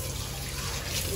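Tap water runs steadily at home while a child's face is washed, making a close, continuous splashing hiss with a low rumble beneath it.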